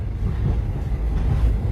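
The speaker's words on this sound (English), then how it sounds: "I'm on the Golden Chariot train." Steady low rumble of the Golden Chariot luxury train in motion, heard from inside a passenger cabin, a continuous near drone with no voices.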